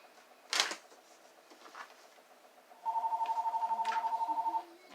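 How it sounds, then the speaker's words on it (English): A telephone rings during a wreath-making tutorial, a rapid trilling electronic ring lasting about two seconds after a few faint knocks, moderately loud and clear with no talking. "And I apologize for the phone ringing."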